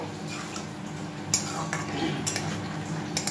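Cauliflower and potato curry being sautéed and stirred in a pan gives a quiet, soft sizzle under scraping spoon strokes and a few sharp metallic clinks against the pan.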